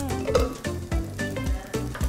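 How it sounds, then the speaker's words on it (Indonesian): Mentai sizzles and fries in a pan at home, a steady crackling hiss with soft rhythmic stirring scrapes repeating about every half second, close and alone. "Tuh, kalian udah mulai dengar sizzlingnya."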